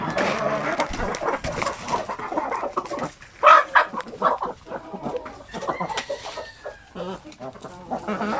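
Chickens recovering from illness cluck and squawk close by in a busy, continuous stream of calls, with one louder squawk standing out midway.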